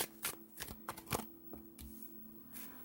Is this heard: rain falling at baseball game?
no